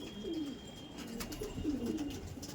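A male Kalshira Andhra racing pigeon at a loft gives several soft, throaty coos in close succession, rising and falling gently with no speech over them.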